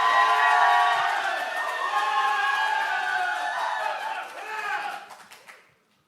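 A large crowd at a Democratic Party leadership convention cheers loudly with sustained, tonal shouting voices that swell, dip and then fade out toward the end.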